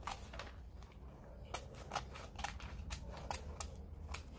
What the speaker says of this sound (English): with the help of the scissor, first we will cut these two papers